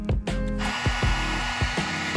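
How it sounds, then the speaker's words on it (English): A power drill bites into cured resin filling a spiral marble bowl, a steady whirring motor punctuated by a series of rhythmic thumps and bursts up close. "We're gonna fill it with resin and drill into that instead."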